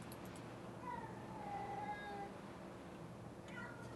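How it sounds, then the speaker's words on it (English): A cat yowls and meows in a drawn-out, wavering cry, faint and somewhat distant over a low background hum, with a brief further yowl near the end. "I'm going to go take care of the cat screaming."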